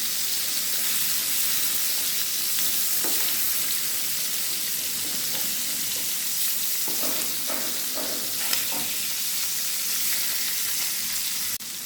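Hilsa fish frying in a pan of oil, a steady close sizzle throughout with occasional sharper crackles and spatters, no talking.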